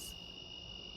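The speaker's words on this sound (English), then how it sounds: "Crickets." Garden crickets trill in a steady, continuous high-pitched chirp on a quiet evening, faint and even throughout with no voices.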